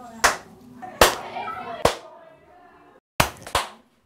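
Five sharp clapperboard snaps, spaced unevenly over a few seconds, each a crisp wooden crack with a short ringing tail, close and loud.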